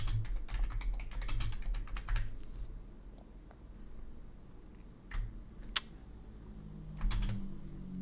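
Computer keyboard typing in bursts of quick clicks, close and fairly clear, with pauses between runs and a single sharp louder tap partway through; no one talks.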